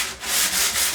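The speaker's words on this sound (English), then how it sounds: "I'm just gonna actually sand a little bit here" Brief, close scratchy rubbing of 220-grit sandpaper over a painted surface between coats, one steady back-and-forth pass with a slight swell in the middle.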